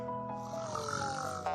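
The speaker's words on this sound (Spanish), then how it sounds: "Hasta cuando roncas, linda." A person snores while asleep in a children's show, a single drawn-out, buzzy snore with a tonal, throaty rasp, fairly close and moderately loud.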